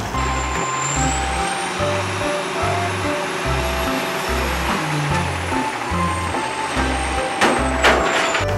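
A toy garbage truck plays electronic truck sounds: a steady, repeating low beeping pattern over rumbling engine noise and a high whine, loud and close.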